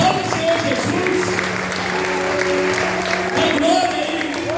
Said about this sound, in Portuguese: Fiquem de pé e aplaudam o Senhor Jesus.